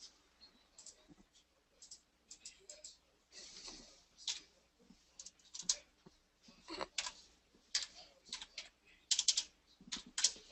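Computer keyboard typing in quick, irregular bursts of clicks and taps, close and fairly quiet, with no talking over it.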